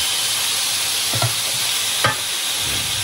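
Pork belly sizzles steadily in a hot pan for kimchi fried rice, with a continuous bright frying hiss and two brief scraping stirs of the spatula, close and loud, no voices.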